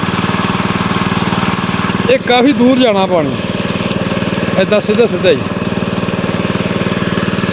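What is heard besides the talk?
motor engine running while irrigating a field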